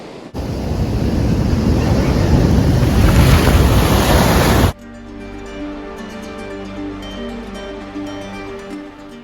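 Loud, steady roar of Pacific surf crashing on the Big Sur shore in California, then the wash softens into a lower, rolling rumble with scattered bright hiss.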